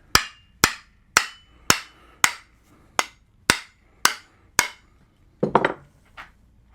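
A hammer drives into an axe kerf in wood while a cruiser axe head is seated, with nine sharp, evenly spaced strikes followed by a quick burst of closer knocks near the end.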